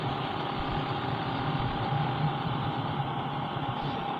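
A motorcycle engine runs on a roadside along the Marilaque highway, producing a steady, continuous rumble that holds at an even, fairly close level throughout with no pauses.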